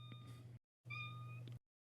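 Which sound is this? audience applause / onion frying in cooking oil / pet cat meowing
pet cat meowing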